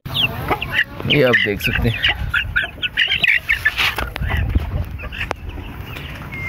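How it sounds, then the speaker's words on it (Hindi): Backyard chickens clucking and squawking close by in a Kashmiri home setting, a busy burst of sharp calls and cackles in the first seconds that thins into scattered clucks, while someone talks over them. "ये वही मैंने पाले थे चिक्स में से कुछ बचे"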